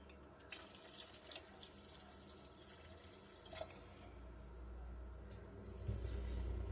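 Water runs steadily from a tap into a pot for okra sambar, a continuous close splashing flow that swells louder toward the end.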